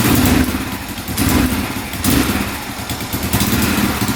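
A faulty quad engine that backfires under throttle struggles to rev, giving loud, close, uneven surges that sputter and sag rather than climbing cleanly.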